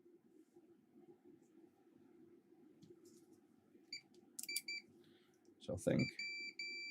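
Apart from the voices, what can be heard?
multimeter continuity test beep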